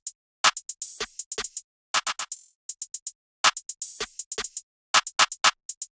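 A programmed FL Studio drum pattern of hi-hat, open hat, clap and snare plays without kick or bass, crisp bright hits in a bouncy, syncopated repeating rhythm with short silent gaps between clusters.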